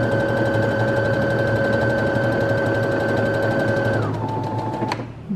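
A Brother A80 sewing machine runs at its highest speed with a steady, continuous mechanical whir and a constant motor tone, close and loud, dropping in pitch near the end before a sharp click.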